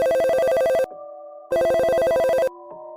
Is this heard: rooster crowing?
no